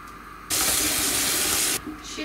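Boiled nettles being drained as hot water gushes loudly into a sink for a little over a second, starting and stopping abruptly against quieter kitchen background.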